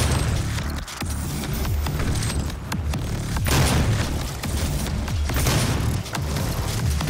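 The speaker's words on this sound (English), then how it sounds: "God, I need to stop using the Gauss cannon so much." Gauss cannon shots boom repeatedly in DOOM 2016 gameplay, heavy bursts landing every second or so over a dense rumbling backdrop of combat noise.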